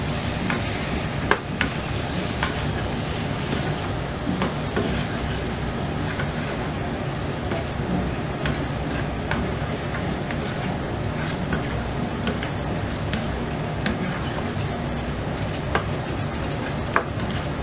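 Karela aloo masala with a splash of water is stirred in a hot pan: a constant close sizzle with repeated spoon scrapes and clicks against the metal at an uneven pace throughout, no talk.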